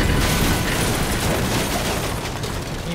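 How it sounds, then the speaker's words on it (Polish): A big explosion in the video game Total Overdose erupts as a loud, sustained, roaring blast of noise that slowly tapers, with no talk over it. "I wielki wybuch."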